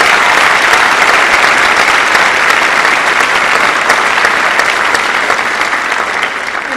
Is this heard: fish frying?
no